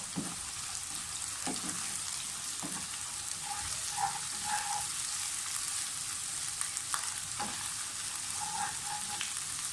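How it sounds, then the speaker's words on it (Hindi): Steady oily sizzle of garlic and ginger frying in a hot pan, with occasional light clinks of a spoon stirring, no voices. "लहसुन अदरक को अच्छी तरह से फ्राई कर लें।"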